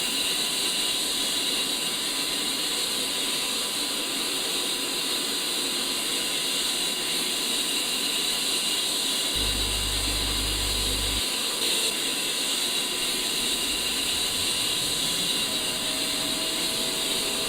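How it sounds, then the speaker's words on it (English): An A-10C jet engine starting up in the DCS World flight simulator, a steady loud turbine whine and hiss that holds throughout with a rising tone near the end as it spools up. "As the engine spools up,"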